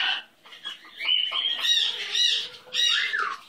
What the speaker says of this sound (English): Such a good baby bird.